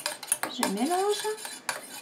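A utensil stirring homemade micellar water scented with ylang-ylang, heard as close, light clinks and scrapes against the container, with a short squeaky glide in the middle and no voices.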